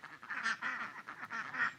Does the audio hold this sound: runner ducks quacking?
yes